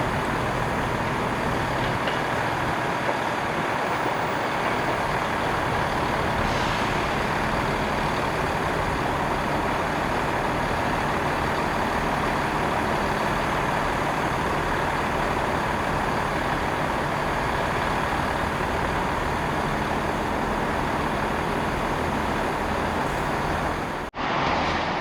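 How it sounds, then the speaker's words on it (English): A Class 68 diesel locomotive departing London Marylebone station, a loud continuous engine roar and rumble that holds steady for the whole stretch, echoing under the station roof, then cuts off abruptly at the very end. "that Class 68 departing was awesome"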